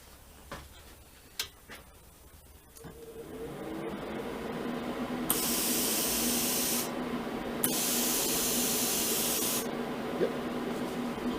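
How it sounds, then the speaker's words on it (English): Compressed air from a Cut50 plasma cutter torch hose, set up over a clamped piece of wood, bursts out as two loud, steady broadband hisses of a couple of seconds each after some light clicks and handling. "check that we're getting air through the hose"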